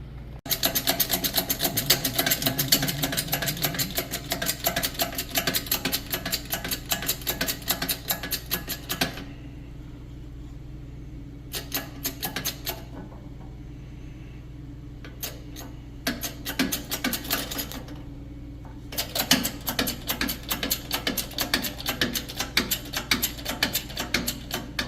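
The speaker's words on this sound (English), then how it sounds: "Wheel stud is pushed back in." A wheel stud is drawn back into the front wheel hub of a 1965 Plymouth Belvedere, heard as rapid metallic ratcheting clicks in close bursts separated by quiet pauses.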